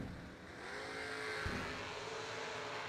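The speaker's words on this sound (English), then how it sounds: "We got us a drag race." Drag race cars race at a motorsports event, a distant, faint, broad engine roar rising and holding steady, with a brief thump in the middle and no voices.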